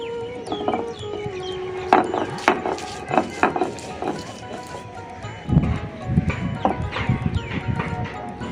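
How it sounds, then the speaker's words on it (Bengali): Garlic is crushed on a stone grinding slab in a Bengali home kitchen, giving an irregular series of sharp knocks and gritty scrapes, with a voice heard faintly at moments. "এবার আমি রসুনটা বেটে নেব"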